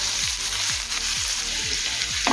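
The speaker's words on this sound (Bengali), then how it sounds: "পেঁয়াজ হালকা লাল করে ভেজে নেব।" Sliced onion sizzles steadily in hot oil with whole cumin and bay leaf, a constant bright hiss broken by soft, regular low thumps of stirring.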